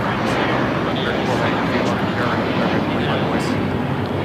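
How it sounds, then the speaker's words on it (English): An American Airlines A321 takes off at LAX bound for Dallas Fort Worth, a steady, loud broadband engine roar filling the whole stretch without letup, with voices talking over it. "This is American Airlines 2832 taking off to Dallas Fort Worth on the A321."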